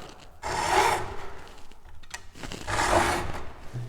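Hacksaw cutting a wooden dowel in a small groove, two short, quiet rasping strokes separated by a brief pause, close and otherwise silent.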